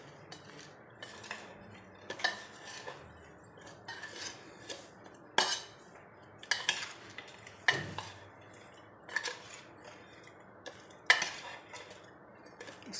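Cut okra being mixed with turmeric and salt in a bowl, a spoon scraping and clinking against the dish in irregular strokes, close and fairly quiet with no talk.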